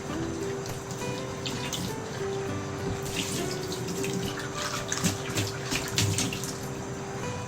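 Water runs steadily from a tap as items are washed beneath it, a close continuous splashing stream with occasional clinks and drips.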